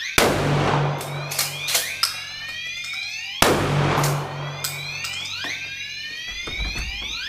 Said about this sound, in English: Suspect has opened fire on room 113.